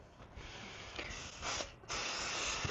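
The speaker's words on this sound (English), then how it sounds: "I just like this 505 temporary adhesive fabric spray" A can of 505 temporary adhesive fabric spray giving short, close hissing bursts, three or four sprays separated by brief pauses in a quiet room.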